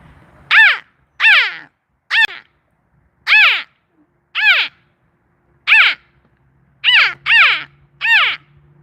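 A person's voice imitates a crow, giving about ten loud, separate caws in an irregular rhythm, close and clear, with no other talk.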